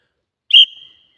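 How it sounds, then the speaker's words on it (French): A single sharp, piercing whistle blast is blown outdoors to warn off wild animals. It sounds loud and close, peaks briefly, then trails off into a thinner fading tone. "j'ai donné, allez, deux coups de sifflet dedans"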